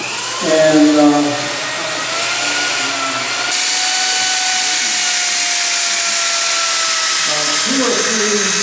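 A power sander runs on oiled wood in dustless oil sanding, a loud steady electric whine and hum that starts and holds, with brief changes in pitch as the tool works.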